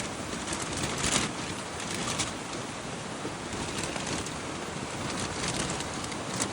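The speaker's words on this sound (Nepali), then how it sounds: "झन् ठुलो पानी परिरहेछ" Heavy rain pours while wind gusts around someone spending the night up in a tree, a constant broadband wash of rain and wind buffeting the microphone with no speech.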